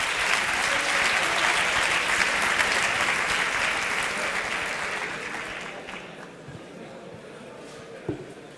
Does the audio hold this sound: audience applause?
yes